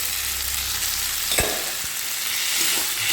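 Spices such as red chilli powder, salt and turmeric sautéing in hot oil, a steady close sizzle with a couple of brief spoon scrapes against the pan, no voices.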